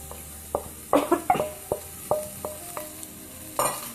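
Onion frying in a pan for hollandaise sauce: a series of sharp utensil knocks and stirring clatters, about ten spread over four seconds, over a low, steady sizzle, close by with no talking.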